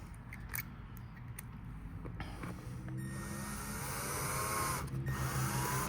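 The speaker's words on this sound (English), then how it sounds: "we're just screwing into wood here." A power driver runs screws into wood during repair work on a JL Audio Fathom F112 subwoofer amplifier, a steady close motor whine rising in pitch over several seconds with brief clicks at the start.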